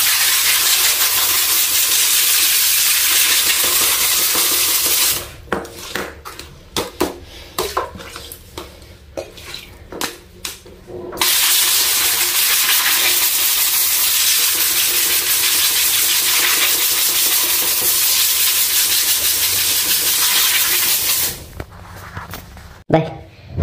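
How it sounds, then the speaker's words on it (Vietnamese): Water hose spraying hard onto a dirty air conditioner evaporator filter, a loud steady rushing hiss that breaks off for a few seconds of dripping and clatter, then resumes and stops again near the end. "Thì các bạn có thể lấy cái vòi xịt thì các bạn xịt vào."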